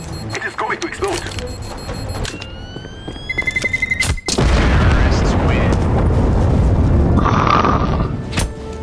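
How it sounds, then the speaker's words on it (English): A bomb detonates on the Dust2 map in Counter-Strike, a sudden loud blast followed by a long, heavy roaring rumble. Game effects and gunfire-like clicks come before it. "It is going to explode."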